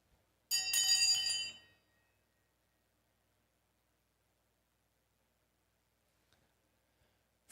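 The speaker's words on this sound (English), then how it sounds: "Let's get ready to ring the bell." Stock market opening bell sound effect, a single bright clanging ring lasting about a second before cutting to near silence.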